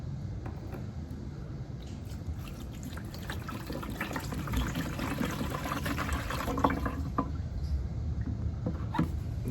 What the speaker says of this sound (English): So the first thing we're going to do is pour in this vinegar into here.